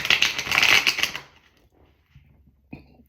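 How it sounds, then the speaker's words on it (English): A quick riffle of tarot cards being shuffled, a rapid fluttering burst lasting about a second, followed by quiet and a single soft tap. "let me shuffle"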